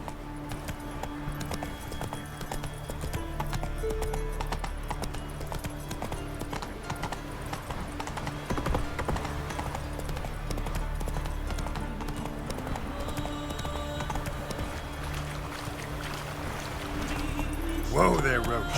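Roach the horse clip-clops along in The Witcher 3, steady hoofbeats continuing under game sounds, with a brief whinny-like burst near the end and a voice talking over it.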